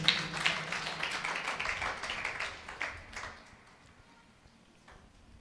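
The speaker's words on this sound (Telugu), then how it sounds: "గట్టిగా చప్పట్లు కొట్టండి" A church congregation claps loudly together in a dense burst of applause that gradually thins and fades over several seconds, heard from some distance in a reverberant hall.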